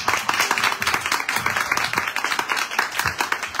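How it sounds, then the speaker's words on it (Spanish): Applause from a live audience welcoming a guest at the start of an evening talk event, a dense, steady wash of many hands clapping throughout with no voices over it. "por favor un aplauso a Gustavo para empezar la noche"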